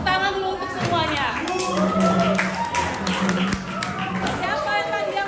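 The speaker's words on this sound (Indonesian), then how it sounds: "Tepuk tangan dulu untuk semuanya" A classroom of students claps for their class groups, with scattered, uneven hand claps mixed with lively chatter and voices talking over the sound throughout.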